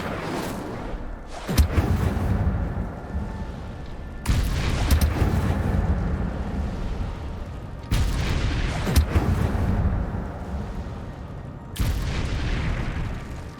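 Incendio fire spell bursts in the Hogwarts Legacy video game: four loud, roaring whooshes of flame, each lasting a few seconds and separated by short gaps, close and booming with no talk.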